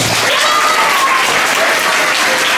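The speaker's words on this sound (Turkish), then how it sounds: "Kuvvetli bir alkış alabilir miyiz?" A school audience of teachers and students, joined by the district governor, breaks into strong, loud, dense applause that holds steady throughout without a break.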